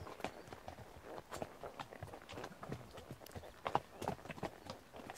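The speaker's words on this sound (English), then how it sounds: "So we did a little canter there" A horse cantering down a lane outdoors, its hooves clip-clopping in a steady, fairly close rhythm throughout, with faint background sounds and occasional louder hoofbeats.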